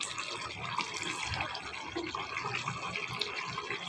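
Rose water poured into a cooking pot over a lowered stove flame, with fried onion already added, gives a steady close liquid trickle and splash throughout, with no talking.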